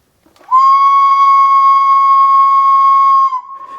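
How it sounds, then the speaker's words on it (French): An HO-scale model locomotive's sound decoder plays a steam whistle on an isolated test track: one long, steady, loud tonal blast with strong harmonics, held for about three seconds before cutting off, with no talking. "Je mets le sifflet de la locomotive en route."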